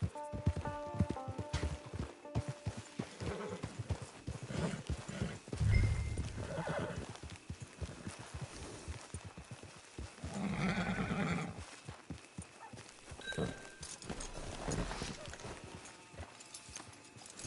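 Video game horse hooves from Red Dead Redemption 2 Online clip-clop at a walking pace, with a horse neighing partway through and some speech faintly in the mix.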